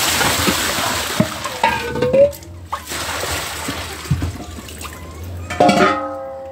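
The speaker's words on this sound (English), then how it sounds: "Throw some of my bleach water in them" Bleach water thrown into buckets during a cleanup, several splashes and sloshes of liquid at close range against a steady rushing background, broken by knocks and brief spoken words.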